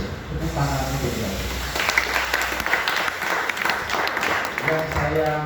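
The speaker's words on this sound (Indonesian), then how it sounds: "Tepuk tangan juga." An audience at a formal gathering on national health insurance gives a round of applause: steady, dense clapping that swells in the middle, with a voice speaking over it at the start and end.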